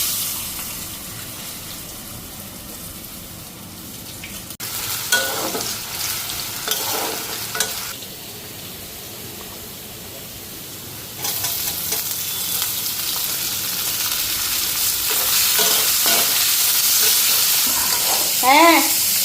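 Potatoes fry in a pan with turmeric and salt, with a steady hiss of sizzling and occasional stirring scrapes, which grows louder partway through, and a brief trickle of running water.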